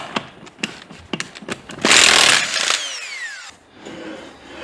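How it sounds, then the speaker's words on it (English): Power grinder working on metal on a Ford Fairmont being revived after 35 years: a run of short, sharp bursts, then a longer loud grinding stretch winding down with a falling whine, close by. "let me keep grinding on it"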